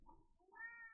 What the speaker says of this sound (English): Sorry for my cat screaming into the microphone